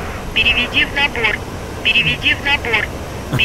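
Pilot's heavy, rhythmic breathing under G-forces in the DCS World flight game, two bursts of strained breaths in quick succession over steady cockpit engine noise.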